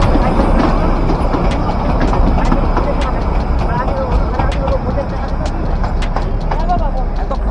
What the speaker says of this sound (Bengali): এতক্ষণে দেখা গেল দার্জিলিংয়ের টয় ট্রেন।